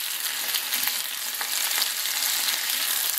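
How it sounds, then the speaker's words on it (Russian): Potatoes fry in a pan, giving a close, continuous, even sizzle and crackle that holds steady throughout with no voices. "Картошечка уже наша жарится. Шкварчит."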